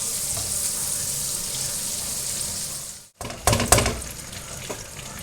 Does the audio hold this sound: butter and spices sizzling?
yes